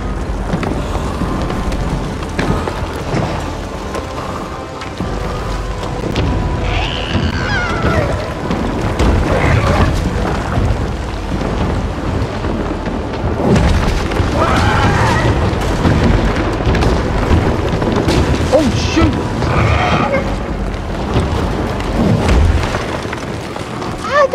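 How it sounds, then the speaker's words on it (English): A bomb explosion in the video game Little Nightmares II rumbles as a loud, sustained low boom with windy roaring texture over many seconds, with scattered higher crackles. "How did that bomb hit me?"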